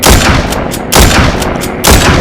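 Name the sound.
gunshot in the Walking Zombie video game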